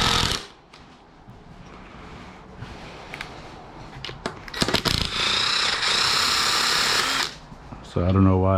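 A power drill drives a screw into wood in a few short bursts, then in one sustained loud whir lasting about two seconds. A person speaks around the drilling.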